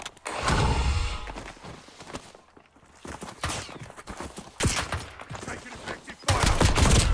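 Gunfire in Call of Duty Warzone: loud, close bursts of rapid shots separated by short pauses, repeating through the clip with quieter spans between volleys.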